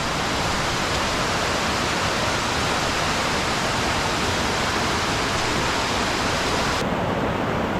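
The Veeveldola river on the Dehenakanda-Mukkuwatta route to Adam's Peak rushes in a steady, loud broadband roar of flowing water, close by and unbroken throughout, with no voices.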